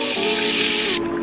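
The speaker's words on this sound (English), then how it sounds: "Okay, let's take the egg whites and just pour." Egg whites poured into a hot pan, making a loud, steady sizzling hiss that lasts about a second and then drops slightly in level.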